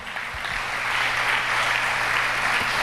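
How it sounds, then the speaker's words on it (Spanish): A church congregation claps for the Lord, a steady wash of applause from many hands filling the whole moment, with a low hum underneath and no voices rising above it. "A dar un aplauso al Señor."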